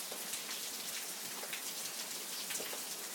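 Heavy rain falls steadily outside on a rainy Sunday, a continuous patter of drops with sharper close splashes scattered through it, no voices.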